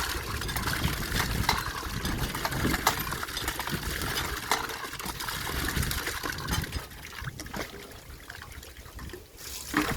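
Water splashes and pours steadily for the whole stretch, broadband and fairly close, easing off a little toward the end.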